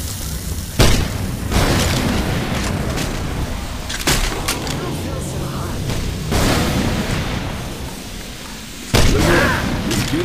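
Molotov and grenade launcher blasts in the zombie shooter game Left 4 Dead 2 on a custom map, several loud booms at irregular intervals over sustained rumbling chaos, with faint voices mixed in.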